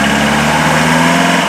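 A Troller T4 jeep being converted for off-road trails revs its engine hard in third gear, a loud, steady, close-up engine roar filling the whole brief moment.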